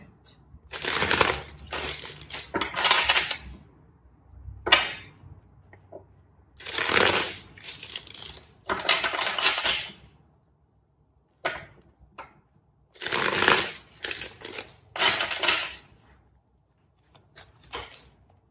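Tarot cards are shuffled in several crisp riffling bursts separated by short pauses, close to the microphone, with occasional light taps and slaps of the deck.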